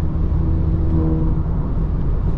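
A turbocharged car engine drones loud and close, holding a steady throaty hum with a faint whirring edge for a couple of seconds.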